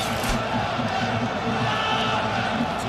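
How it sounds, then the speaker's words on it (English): Crowd at a boxing match between Vitali Klitschko and Tomasz Adamek, a steady dense roar filling the arena, loud and continuous throughout with no clear peaks. "the crowd once again roars for that"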